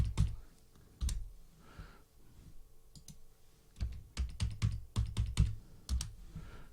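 Keys clack on a computer keyboard as an amount is entered, a few isolated taps followed by a quicker run of keystrokes, close and crisp in a quiet room.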